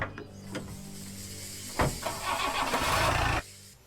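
A car engine cranks and starts, with faint mechanical clicks early on, then a sudden catch and a rough, rising idle that runs for over a second before cutting off.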